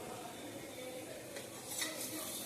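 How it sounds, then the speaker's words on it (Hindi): Onions cooking in a pan give off a faint, even sizzle with a few soft scrapes near the end, quiet and unbroken by any voice. "प्याज डाल रही हूँ, इसको अच्छे से पकाऊंगी"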